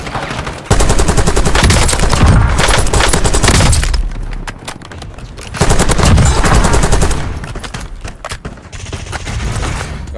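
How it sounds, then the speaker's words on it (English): Call of Duty: Warzone gunfire in Verdansk cracks out in dense, loud automatic bursts with heavy rapid shots. Two long volleys are split by a brief lull, then a softer stretch of fire follows. "Shots fired, shots fired."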